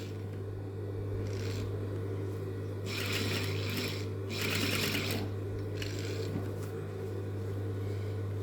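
A sewing machine topstitches a pocket in several short bursts of rapid needle clatter, separated by pauses while the fabric is repositioned, all close and steady over a constant low motor hum.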